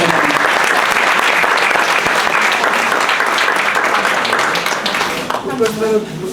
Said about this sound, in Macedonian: Еден огромен аплауз